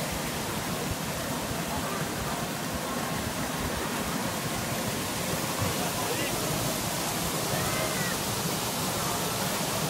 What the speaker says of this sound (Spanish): Cataratas está cayendo las encima del restaurante.